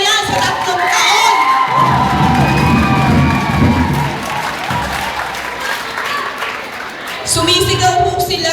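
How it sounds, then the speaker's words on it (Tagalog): A crowd at a political rally shouts and cheers in loud rolling waves, with applause and whoops rising and falling, then surging again near the end. "Sumisigaw po sila, simula ng pagbabago."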